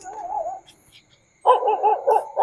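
A dog barks repeatedly nearby in short bursts, with a brief quiet gap between two bouts.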